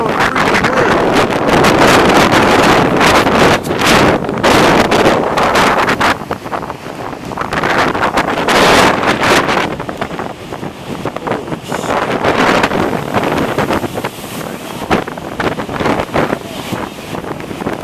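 Strong gusting wind from Hurricane Sandy in Ohio roars steadily and loudly into the microphone outdoors, with heavy buffeting surges rising and falling throughout and no voices.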